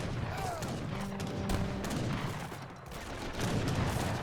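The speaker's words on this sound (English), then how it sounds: "Got a couple heavy cannons and horse guns on the high ground there, getting some good damage." Heavy cannons and artillery fire in an Age of Empires 3 battle, a faint, dense wash of booms and gunfire rumbling steadily in the background.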